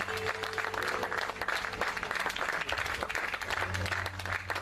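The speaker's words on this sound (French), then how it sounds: "Est-ce que nous pouvons nous lever et acclamer Jésus ensemble?" Church congregation on its feet applauding and acclaiming Jesus, steady sustained clapping with cheers at moderate distance, a low musical hum beneath.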